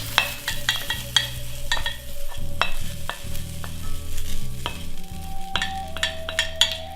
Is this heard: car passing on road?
no